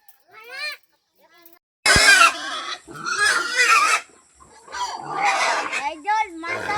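Pigs grunt and squeal loudly close by in several raspy bursts separated by short pauses. Goats are also present, and a person speaks among the pig noises.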